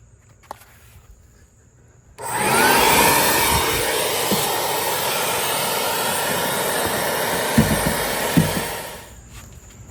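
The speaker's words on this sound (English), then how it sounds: "I'm gonna take the vacuum and vacuum that all out" A vacuum cleaner switches on with a loud rushing whine, runs steadily with occasional rattling clicks as broken glass is sucked up inside a 2024 Ram TRX, then powers down.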